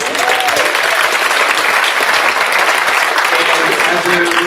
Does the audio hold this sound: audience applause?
yes